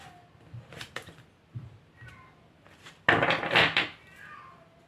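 A house cat meowing and complaining, several drawn-out plaintive meows that rise into a louder, longer wail near the end, mostly on its own with faint handling knocks nearby.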